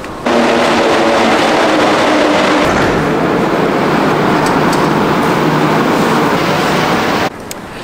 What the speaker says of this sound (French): on vient d'arriver à la station de métro Peel